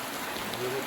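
Heavy rain falls steadily, a dense, close, continuous hiss of drops with no pauses or breaks in the sound.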